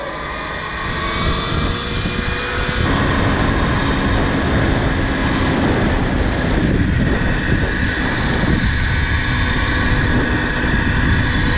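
An enduro motorcycle engine roars steadily and loudly under heavy wind noise during a wheelie in riding mode 2, swelling slightly after the first few seconds and holding a continuous drone with no talking.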